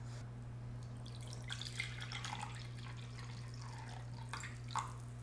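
Water trickles and splashes faintly as it is poured into a measuring cup in a home kitchen, soft intermittent liquid sounds over a steady low electrical hum.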